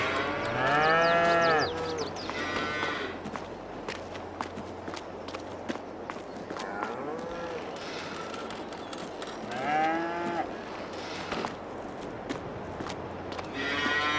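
Cattle moo repeatedly on a Farming Simulator 22 farm, several drawn-out lowing calls spaced apart, with hoofed footsteps and shuffling livestock movement throughout.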